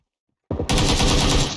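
Video-game gunfire in PUBG Lite erupts after a half-second of silence, a loud, rapid burst of automatic shots that continues to the end.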